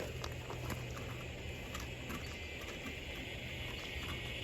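A spoon stirs MRE drink powder in a collapsible bowl: faint, quiet patter of scraping and light clinks repeating steadily against a low background hum.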